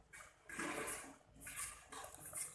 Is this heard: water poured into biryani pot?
yes